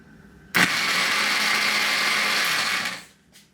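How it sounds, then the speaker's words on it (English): A kitchen blender grinds kebab paste made with cilantro and egg, starting abruptly into a loud, steady whirring motor run for about two and a half seconds, then winding down and stopping, with one brief pulse after. "Now let's grind it again."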